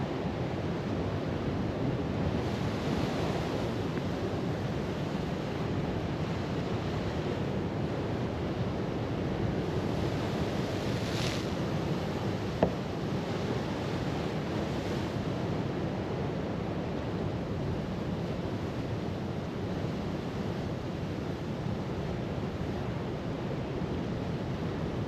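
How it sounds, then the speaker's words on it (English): Big sea swells surging and breaking on the shore at Beacon Point, Newbiggin-by-the-Sea, a steady broad roar of surf with gusting wind buffeting the microphone throughout, no voices. "Serious tide pull, I know that much. The swells are pretty damn big"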